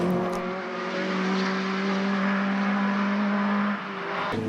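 Race cars at Mondello circuit during BOSS racing, a loud sustained engine drone holding a steady pitch as cars run down the straight, fading briefly at the end.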